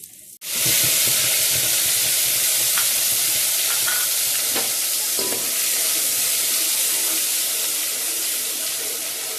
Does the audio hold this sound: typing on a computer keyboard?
no